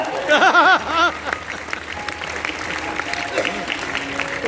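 An audience at a Sri Ram Katha religious discourse breaks into applause, a dense clatter of clapping that starts under a voice and carries on steadily at close range.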